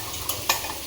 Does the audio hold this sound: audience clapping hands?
no